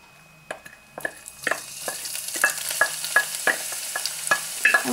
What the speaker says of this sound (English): So the oil's hot enough. So go ahead and start with adding the onions.